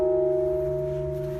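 A heavy church bell, one of four in a tower, struck by hand, ringing a single sustained tone that slowly decays over its humming overtones, loud and close.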